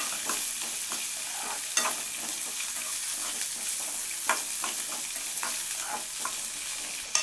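Chopped onion frying in a pan for a Chettinad chicken curry, a steady bright sizzle under repeated scraping strokes of a spoon, with a few sharper clinks against the pan.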